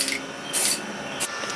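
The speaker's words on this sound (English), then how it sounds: "you want to apply a couple light spray paint coats" Spray paint hissing onto a patio chair outdoors, two short bursts, the first longer than the second, close and fairly loud against a faint background.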